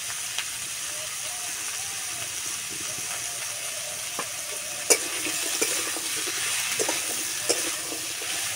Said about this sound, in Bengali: ঢাকা দিয়ে শসাটা ভালো করে ভেজে নেব।